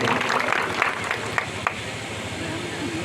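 Applause from an audience at a free health camp event in Ajaygarh, a dense continuous patter of clapping at moderate loudness with some crowd noise beneath.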